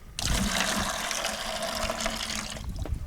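Water sloshing and washing in a gold pan while panning for gold at a mining claim, a steady continuous swirl of liquid lasting a few seconds with no talking.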